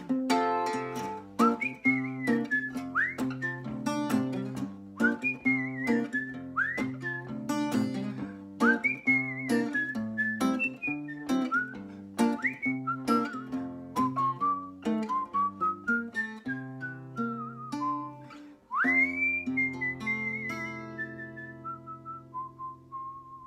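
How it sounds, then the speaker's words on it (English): A person whistles a lively melody alone, with quick, bright phrases and slides that carry on steadily for over twenty seconds, fairly close and clear. "Very few people can pull off the whistle."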